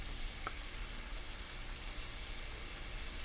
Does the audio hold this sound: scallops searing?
yes